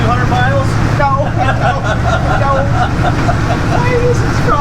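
An old school bus from a wrecking yard rattles loudly while driving, its engine drone and constant clatter filling the cabin as people talk over it.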